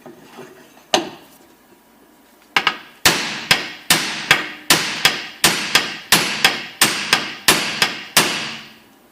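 Sharp metallic taps of a bolt used as a drift, knocking back a U-joint ear on a 2008 Lexus RX350: a few scattered strikes, then a steady run of about a dozen evenly spaced close blows.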